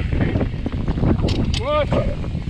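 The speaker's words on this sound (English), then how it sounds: "And it's windy." Wind gusts buffet the microphone on an exposed mountain bike trail ridge at Teocalli Ridge in Crested Butte, a loud steady rumble with a brief tonal squeal, while a rider talks over it.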